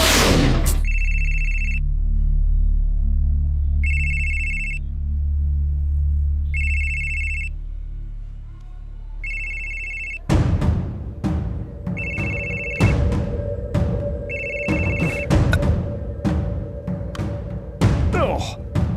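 An old-style telephone bell rings in repeated bursts over a quiet scene with low background hum, then keeps ringing under a sudden burst of sharp clattering action noise.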